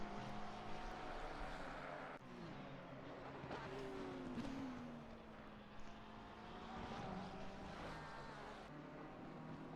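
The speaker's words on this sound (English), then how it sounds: "we're just gonna be hearing cars drive" Race cars drive around Brands Hatch in a racing video game, engines droning and rising in pitch as they pass, with several cars overlapping at a moderate distance and no talk.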